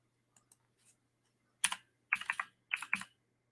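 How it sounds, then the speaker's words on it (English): An old school computer keyboard typed on in bursts: a few faint taps, then clusters of crisp, loud clacking keystrokes close up, with quiet pauses between. "You guys can hear I use an old school keyboard."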